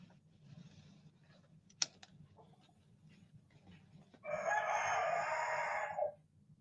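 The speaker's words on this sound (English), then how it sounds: "Oh, we got a few roosters going now." A rooster lets out one long, loud crow near the end, following several seconds of quiet background with light clicking and faint rustling.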